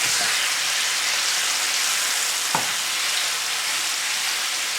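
Garlic and shrimp sizzle steadily in a hot pan for shrimp scampi, a loud continuous frying hiss with one brief clink of a utensil partway through, no talking.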